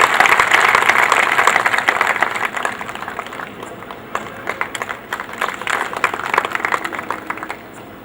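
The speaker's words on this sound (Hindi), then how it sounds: "कृपया तालियां बजाकर प्रोत्साहन करें।" Audience clapping for prize winners called to the stage at a Hindi-language public event, a loud burst of applause that thins into scattered, uneven claps toward the end.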